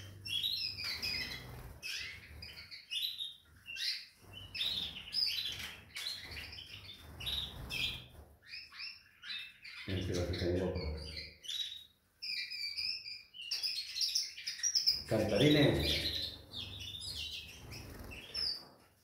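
A small reddish songbird chirps and twitters repeatedly in bright, rapid bursts for almost twenty seconds, with brief pauses and a few louder, lower rustling moments.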